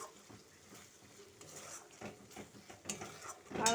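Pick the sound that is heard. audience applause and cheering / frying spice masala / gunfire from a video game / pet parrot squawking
frying spice masala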